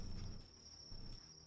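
Crickets chirp in a steady high-pitched trill, faint and continuous, with a low rumble and faint background noise underneath.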